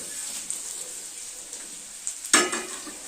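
Dried chillies go into hot oil in a kadhai in a Chhattisgarh village kitchen. A faint crackle gives way to a sudden loud, close sizzle burst near the end.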